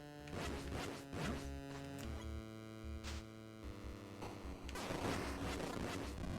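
Shots fired at a shark in the video game Zexion come as sharp repeated bursts laid over a loud droning synth music bed, several hits in quick succession with a crashing swell near the end.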